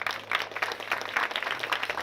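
Audience applauding prize winners at a cultural mediation awards session, a brisk, continuous burst of clapping from a modest crowd, fairly near and steady throughout.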